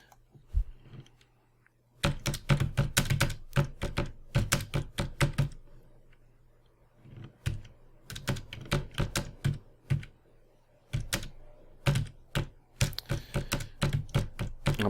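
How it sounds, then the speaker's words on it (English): Rapid, uneven clatter of typing on a computer keyboard, close and fairly loud, coming in bursts of keystrokes separated by short pauses as a brief reply is entered. "I'm typing in a very inadequate response there"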